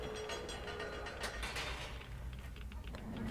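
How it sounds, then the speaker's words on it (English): Rumbling train sounds from inside the video game Metro 2033 Redux, a steady dense mechanical din with creaks and rattles running throughout, heard alone without talk. "Wanna get to drive a train."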